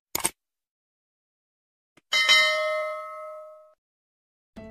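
A short click followed by a bright bell-like ding that rings out and decays over a second or so, then another click at the end, all against silence.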